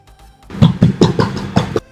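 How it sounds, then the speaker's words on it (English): Six quick hollow knocks in a loose rhythm, like knuckles tapping the underside of a fully baked white bread loaf, close and fairly loud. "A thoroughly cooked bread will sound hollow, just like the one shown here."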